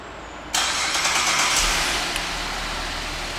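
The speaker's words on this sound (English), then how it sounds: "Let's go ahead and turn on the car from the remote." A 2010 Buick Enclave CXL engine starts by remote with a sudden crank and catch, then settles into a steady, smooth idle heard up close with no talking.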